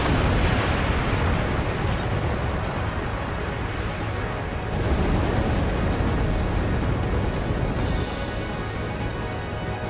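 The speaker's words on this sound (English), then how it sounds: "So the explosion was big enough to take down an entire building" A building blown up by an explosion in the video game Final Fantasy X HD: a sustained loud roaring rumble of blast and collapse, with fresh surges of debris noise partway through and again near the end.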